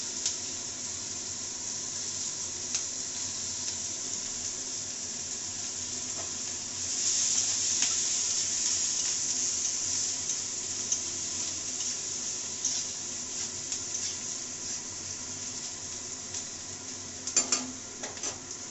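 Whole garam masala spices, bay leaf, onion and chili sizzle steadily in hot oil in a pan for egg kalia, a constant bright frying hiss with occasional stirring clinks of a spoon against the pan.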